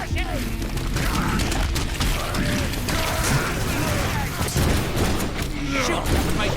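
Rapid gunfire and mechanical clanks in the Deadpool video game during a fight against many Sinister clones, bursts of shots and ratcheting reload sounds over busy game music and effects, with a voice talking over it.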